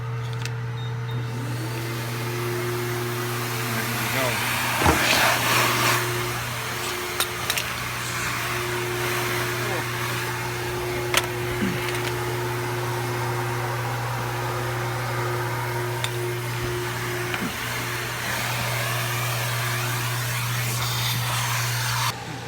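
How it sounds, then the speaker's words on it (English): Self car wash vacuum running at a coin-operated station in Seogwipo, Korea, a steady loud droning hum with brief bumps and sucking shifts as the hose works inside the car. "Now for the vacuuming portion."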